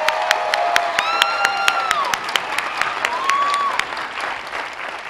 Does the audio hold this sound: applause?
yes